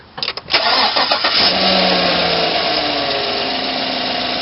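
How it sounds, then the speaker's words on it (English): A 2016 GMC Sierra pickup engine cranks with a few quick starter bursts, then catches and settles into a steady, loud idle close by. "So first thing you want to do is start your truck."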